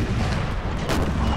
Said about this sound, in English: Canister blasting through the British line